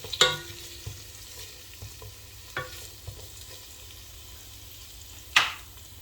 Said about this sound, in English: while the vegetables are frying